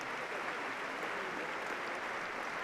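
Sustained applause from a large crowd at the Wimbledon trophy presentation, a dense, steady wash of clapping that stays loud and even throughout with no break.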